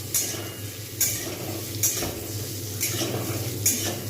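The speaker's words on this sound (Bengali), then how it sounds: "যতক্ষণ পর্যন্ত না সফট একটু হচ্ছে ততক্ষণ পর্যন্ত কিন্তু আমি এইভাবে ভাজতে থাকবো" Onion and capsicum frying in a pan for chilli cauliflower, a steady close sizzle under regular stirring scrapes about once a second, with no talk.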